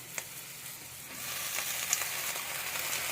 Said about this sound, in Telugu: ఇప్పుడు మనము ఈ గోంగూర వేసేసుకుందాము.